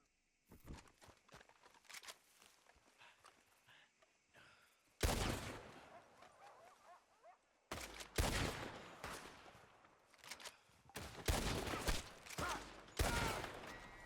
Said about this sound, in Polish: Cztery strzały w niego trzeba było.